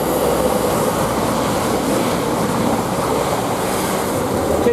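An East Midlands Railway train at Luton Airport Parkway station gives a loud, steady rumble and rush that holds at an even level throughout, with no voices.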